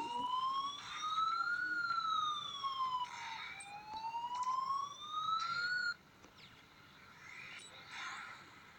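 A video game siren from Crash of Cars wails electronically, rising and falling in slow sweeps, fairly prominent, then cuts off, leaving quieter background hum.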